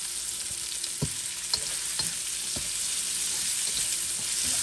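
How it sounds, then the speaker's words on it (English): Onions and garlic fry in a pan over medium heat for a Filipino beefsteak dish, giving a steady close sizzle broken by a few soft knocks of stirring. "These onions are going to get a little more brown with that garlic."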